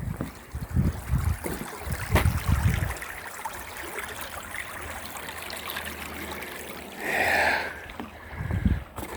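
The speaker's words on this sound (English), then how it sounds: "a nice little creek" Small mountain creek flowing steadily at a high-elevation Montana site near the Continental Divide, a continuous watery rush with some wind and brief handling noises along the way.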